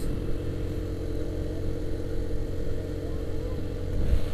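A TVS XL100 moped engine pulls steadily uphill carrying a rider and passenger, a continuous mid-pitched drone that stays loud and even with only slight swells.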